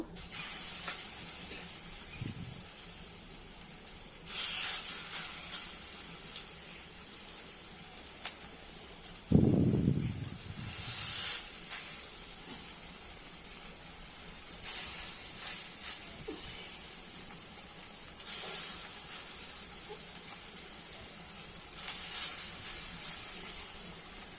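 Pumpkin flower fritters fry in hot oil in a wok, producing a steady bright sizzling hiss that swells in several bursts, with a brief lower rustle midway; no voices.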